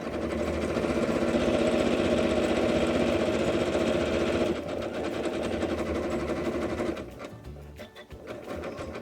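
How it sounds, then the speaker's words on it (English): A sewing machine stitches through a coiled rope bowl with a fast, loud mechanical whir, then slows and stops into softer, uneven pulses near the end. "I'm going to just go ahead and stitch all the way through on mine"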